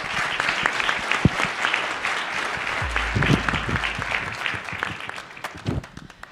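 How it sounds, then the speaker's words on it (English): An audience at a startup pitch competition gives a steady round of applause, with dense clapping throughout, a few sharp louder claps, and brief low cheering mid-way. "Everybody give a round of applause."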